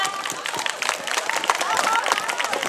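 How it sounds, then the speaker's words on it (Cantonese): A crowd claps steadily at the opening ceremony of the 2013 Hong Kong Vegfest, a vegetarian and vegan carnival. The applause forms a dense, even patter of hands that carries on without a break throughout. "Round of applause for everyone."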